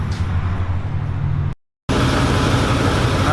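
A Ford Mustang GT 3-valve V8 runs at a steady idle, a low rumbling drone heard close by, broken by a brief silent gap before the same engine hum continues.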